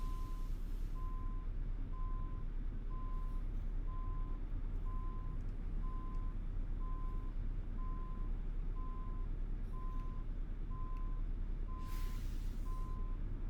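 A truck in American Truck Simulator reverses in a traffic jam, its backup alarm beeping in a steady, evenly spaced series over a constant engine rumble, with no talk.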